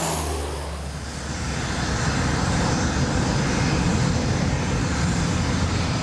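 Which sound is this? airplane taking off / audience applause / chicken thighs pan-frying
airplane taking off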